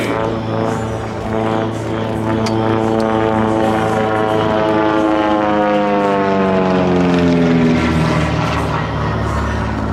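A TB30 Epsilon propeller airplane flying a solo display at the Biscarrosse Air Show drones loudly and steadily, its engine pitch sliding as it passes by, with no voices.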